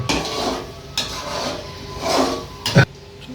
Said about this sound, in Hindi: अब इसको एक दफ़ा अच्छी तरह मिक्स करके हिला लेंगे।